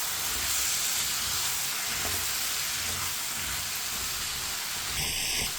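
Half a kilo of cut, washed potato pieces being mixed in a hot pan: a continuous, close, dense sizzle with faint stirring scrapes underneath. A short electronic tone sounds at the very end.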